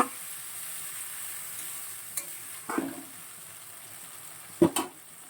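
Spice masala for a banana-flower dish fries quietly in a pan under a faint steady hiss, punctuated by a few sharp scraping stirs of a spoon against the pan.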